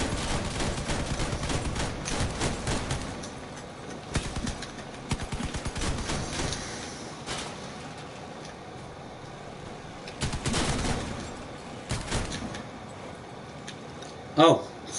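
Gunfire tearing apart a vehicle in the video game Crossout, with bursts of rapid automatic shots in clusters separated by quieter gaps and a sharp louder blast near the end, under a continuous game mix.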